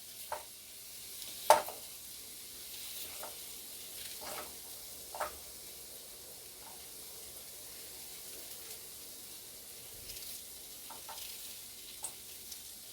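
Onions frying with potatoes in a home kitchen pan give a steady soft sizzle, with scattered clicks and scrapes of stirring.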